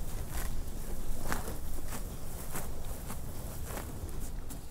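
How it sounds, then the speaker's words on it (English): Cows graze in a fresh pasture, with soft repeated crunching and tearing of grass in an irregular rhythm close by, over faint outdoor background noise. "Healthy cows chomping away at lush,"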